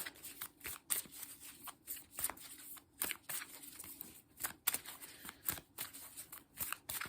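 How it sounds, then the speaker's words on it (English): Quick, crisp riffling bursts repeat several times, close and fairly quiet, as tarot-style cards are shuffled for a card reading, with no voices. "Quick shuffle."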